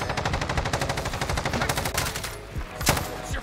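An AUG rifle fires in Modern Warfare as a rapid, steady automatic burst of close, loud shots that runs for about two seconds, followed by a few separate single shots.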